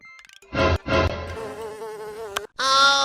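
A housefly buzzes steadily in close, loud bursts with brief gaps, rising to a sharper, higher whine near the end, where it lands in a cup of tea at a roadside chai stall.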